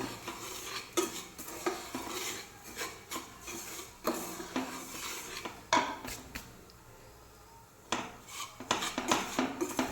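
Thiruvathirai kali being stirred in a pot, with a spoon scraping and knocking against the metal in irregular strokes, close up and with no talking.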